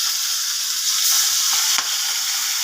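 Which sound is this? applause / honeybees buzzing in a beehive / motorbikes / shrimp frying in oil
shrimp frying in oil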